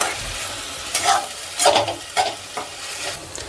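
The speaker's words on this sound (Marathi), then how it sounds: "चांगलं परतून घ्यायचं, त्याचा टोमॅटोमधला जो कच्चेपणा आहे ना तो पूर्ण असं आपल्याला घालवायचा" Onion and tomato sautéing in a hot pan for a Goan-style tender coconut prawn curry, a soft steady sizzle broken by several scraping stirs of a spatula, close up with no talk.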